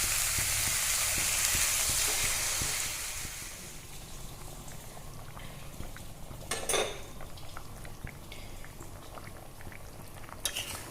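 Water poured into a pan of sizzling mutton kosha sets off a loud hiss that settles into a quieter, steady bubbling simmer, broken by a sharp clink of a utensil against the pan.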